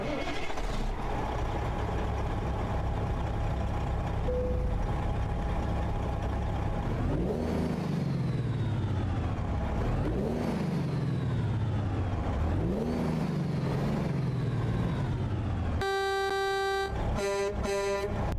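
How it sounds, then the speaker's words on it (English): A white GMC Cabover truck in American Truck Simulator cranks and fires up, its diesel engine rumbling loudly and revving in repeated swells, then a horn-like chord of steady tones sounds near the end, with no talking. "let's go ahead, hop into the truck here, start it up"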